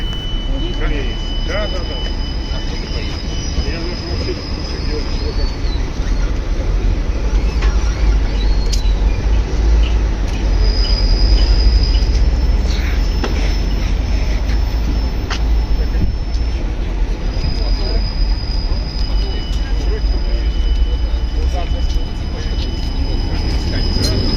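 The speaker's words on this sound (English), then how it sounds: "Even here it is even written Bespilotny tramway, which means self driving tramway here in Moscow, Russia." A self-driving tram rolls through Moscow with a loud, steady rumble of wheels on rail, faint high squeals drifting over the continuous running noise.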